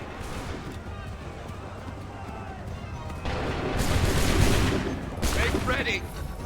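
Musket volley fire in an Assassin's Creed III battle: dense crackling bursts erupt after a few seconds of busy background and roll on loudly for several seconds, with shouting voices mixed in.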